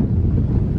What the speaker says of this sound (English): The wind's really starting to pick up here